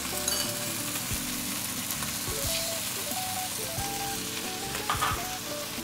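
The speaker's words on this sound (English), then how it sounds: "Now we can go ahead and add our broccolini and then our sauce." Broccolini and sauce hit a hot pan for beef and broccoli, giving a steady, close sizzle and crackle with light stirring scrapes underneath and no talking.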